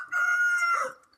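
A chicken on a rooftop farm gives a single short crow or call, close and clear for about a second against a quiet background.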